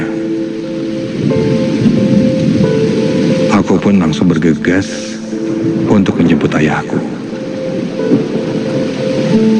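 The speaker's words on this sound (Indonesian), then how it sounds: "di luar hujan masih sangat deras" Heavy rain pours steadily in the horror game Nightmare Side, with rumbling thunder under a voice narrating over the downpour for much of the stretch.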